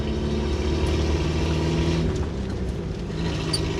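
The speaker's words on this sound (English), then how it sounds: "I'm driving the Renault again" A 1965 Renault R8 1100 engine hums and drones steadily while driving, a continuous mid-pitched motor note with road noise and no talk.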